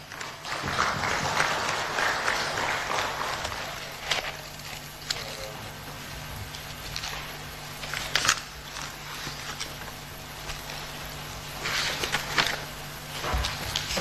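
Scattered clapping from an audience: a handful of separate claps and short bursts spread across a quieter background.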